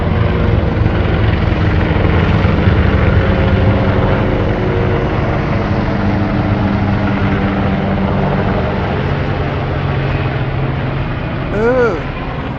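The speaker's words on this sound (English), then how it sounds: "those helicopters are with weapons" Steady rotor drone of armed military helicopters overhead in Israel, loud and continuous, with a faint voice speaking underneath.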